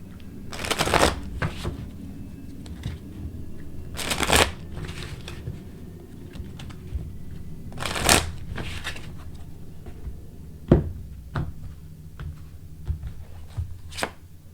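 Tarot cards being shuffled in a few brisk riffling bursts with quieter handling between them, close and fairly loud, with no talking.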